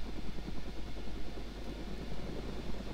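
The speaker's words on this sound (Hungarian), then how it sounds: "Hallod, haver, jött 3 helikopter!" Several helicopters approach in the video game DayZ, a steady low rotor thrum with pulsing chop that fills the scene at moderate distance, alone without talk.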